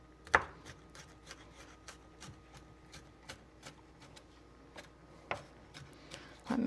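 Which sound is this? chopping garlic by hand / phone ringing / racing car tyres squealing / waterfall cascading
chopping garlic by hand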